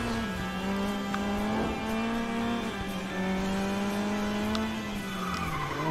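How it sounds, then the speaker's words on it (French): A car engine in the racing game Flatout 2 roars continuously, its revving pitch rising and dipping as the car accelerates, loud and alone with no talk. "on entend le moteur beugler de mon côté"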